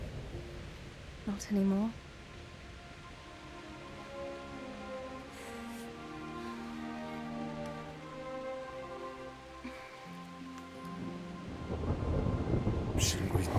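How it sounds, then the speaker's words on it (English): Steady rain and low rolling thunder from a thunderstorm in the medieval video game Kingdom Come: Deliverance, with a rumble swelling toward the end beneath a short line of speech and soft game music. "Not afraid of thunderstorms, are you?"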